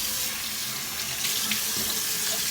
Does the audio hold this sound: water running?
yes